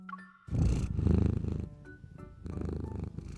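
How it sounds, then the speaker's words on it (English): A cat purrs close up in a deep, rumbling rhythm, with the purring coming in long pulsing waves broken by short pauses and no talking. "He gives me chin rubs until I'm purring."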